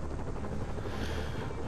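A helicopter in the Marvel's Spider-Man video game gives a steady, dense rotor roar with a fast chopping pulse. It sounds close and continuous, and no voices are heard over it.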